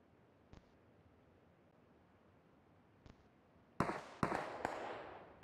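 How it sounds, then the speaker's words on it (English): Gunshots ring out in the mobile battle royale game PUBG Mobile: two faint distant cracks, then three louder, sharper shots close together near the end with a trailing echo. "Shots fired."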